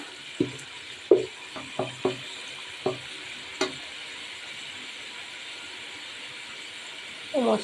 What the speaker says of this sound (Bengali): মেঘে ভালোভাবে কষাইতে হবে ভালো করে কষিয়ে নিতে হবে